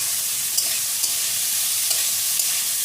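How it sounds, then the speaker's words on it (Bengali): Chicken frying in a pan for egg chicken pasta, a constant bright sizzle with a few faint clicks of stirring, steady and close with no voices. "চিকেনটা কিন্তু একটু সময় দিয়ে ভাজতে হবে"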